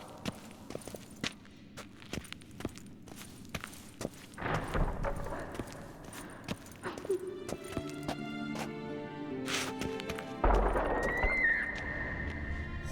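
Horses in The Witcher 3 video game whinny and snort while hooves clop in sharp, scattered beats, with layered game ambience and tonal effects building underneath.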